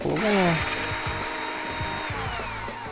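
A 2.5 mm hex bit turns out the screws holding a plastic ring on a Xiaomi electric scooter's folding mechanism, giving a close, steady whirring drive with a high whine and rhythmic ticks that fade slightly toward the end.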